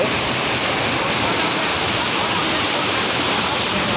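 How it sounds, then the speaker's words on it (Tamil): Water rushes at Hogenakkal falls in heavy flow: a loud, unbroken roar fills the whole stretch with no break or talking. "சும்மா பார்த்தீங்கன்னா ஒரு ஐம்பதாயிரம் கணக்கு தண்ணீர் வந்து கொண்டிருக்கு"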